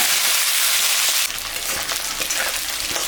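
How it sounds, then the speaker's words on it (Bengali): Onions and potatoes frying together in a pan, a steady loud sizzle that dips briefly as food is stirred, then continues crackling evenly without any voices. "তার মধ্যে আলু দিয়ে দিলাম পেঁয়াজ আর আলু একসঙ্গে ভাজা হয়ে যাবে"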